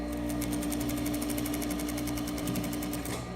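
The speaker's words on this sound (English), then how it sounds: "Now we back the stitch." A sewing machine stitches a waistband, its motor whirring loudly and close with a fast, even needle rhythm that runs without pause before cutting off just at the end.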